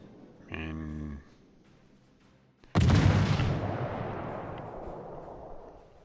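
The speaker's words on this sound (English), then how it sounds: "destroyer gunshots versus a battleship" In World of Warships, a destroyer's gun fires on a battleship: one heavy boom with a long rumbling decay follows a short tonal sound, then fades slowly with no talk over it.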